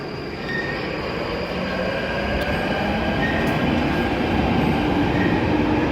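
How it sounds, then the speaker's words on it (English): A London Underground Northern Line train roars steadily into an underground station with a narrow island platform, a broad rumbling wash with faint metallic squeals, loud and continuous throughout. "it's so noisy when trains come in now"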